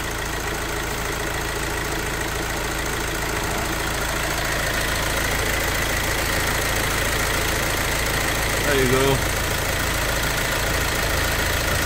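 A self-built campervan's engine idles steadily and continuously at close range with a deep, even rumble, and a brief short voice comes in near the end.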